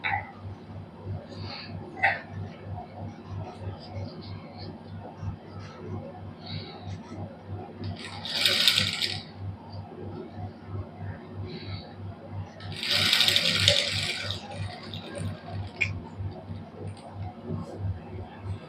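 A sewing machine stitches lace onto the neckline of a black suit, producing a steady rhythmic ticking and thumping, with two louder hissing bursts during the run.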